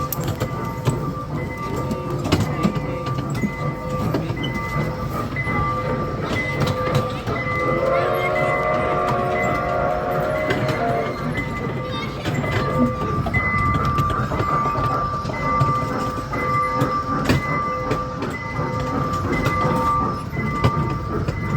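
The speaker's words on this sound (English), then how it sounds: "Let's go and visit Tarana Premium Mall on a train that will take you right around this mall." A small tour train rolls around an outlet mall, its steady rumbling and rattling running continuously with faint tonal whines and chatter in the background.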